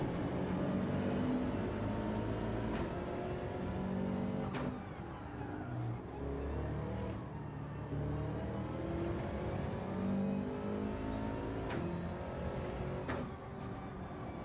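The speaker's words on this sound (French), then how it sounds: "Oh, ce drift, mon gars." A car drifts and revs hard with a loud, continuous engine note that climbs and falls through several gear sweeps. Sharp tire and brake bursts cut in at intervals, and no one talks over it.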